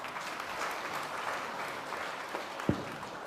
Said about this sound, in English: A well round of applause, please.